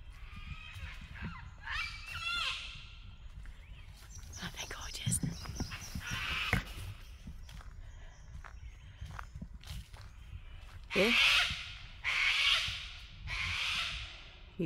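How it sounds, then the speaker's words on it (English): Harsh screeching cockatoo calls ring out in bursts, loudest near the end, over rustling footsteps and a quiet voice outdoors. "Listen to the cockatoos."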